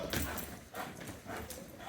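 A dog's movement and yips come through in uneven bursts over a busy, noisy background, close and moderately loud.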